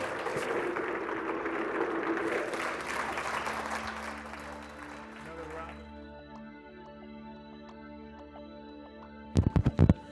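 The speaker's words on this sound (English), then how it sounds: "Another round of applause for Dr. Raman Gokal." Audience applause after a talk by Dr. Raman Gokal on Ganesha's teachings: dense, steady clapping for several seconds that fades out, followed by quieter background sound and a few close bumps at the end.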